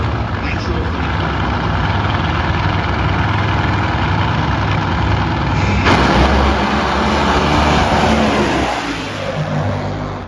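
A nitro Funny Car drag racing engine at NHRA Maple Grove Raceway roars loud and sustained, swelling sharply partway through and then easing off, with a public-address voice talking over the din.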